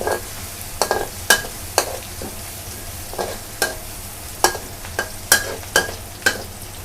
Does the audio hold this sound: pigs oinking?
no